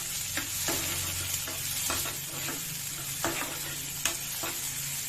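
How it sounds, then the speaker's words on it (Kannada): Tomatoes go into a frying pan of masala, giving a steady background sizzle broken by several sharp stirring scrapes and clinks of a spoon against the pan, with no talking. "ಈಗ ಟೊಮೆಟೊ ಹಾಕೊಂಡ್ಬಿಡ್ತೀನಿ."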